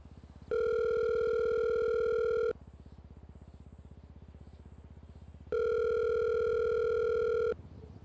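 Telephone ringback tone heard during a phone call: two long steady beeps about two seconds each, separated by a few seconds of low buzzing line noise.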